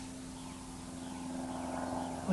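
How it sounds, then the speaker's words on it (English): Steady broadband drone of an airplane passing overhead, a continuous low hum that swells slightly toward the end, heard alone and fairly faint. "Does one have to say airplane?"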